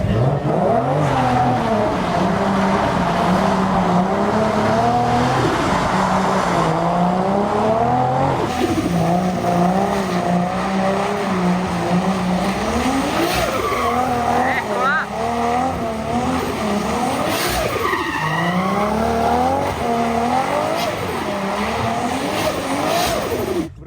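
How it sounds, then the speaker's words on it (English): A 500 HP Toyota Cresta drifts on a track, its engine revving hard and rising and falling in pitch while tires squeal through long slides, loud and close from inside the car, with people talking over it. "It was the first time I drove it on a track, so it was the first real drifts with this car"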